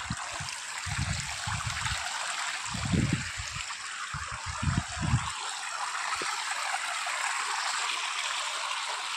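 Rushing water of the Hanumana waterfall in Rewa, Madhya Pradesh, India, pours continuously in a loud, steady roar, with bursts of low rumbling in the first half and no speech.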